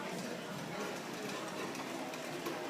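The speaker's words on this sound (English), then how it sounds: "Here's the motor working in the bank." An electric motor driving a conveyor runs steadily with a dense, even whirring hum and rattle, constant in level throughout with no pauses.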